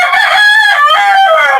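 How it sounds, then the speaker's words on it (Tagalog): A fighting rooster crowing loudly and close, one long drawn-out cock-a-doodle-doo call with a wavering tone, heard alone with no talking. "Ang ganda ng manok mo."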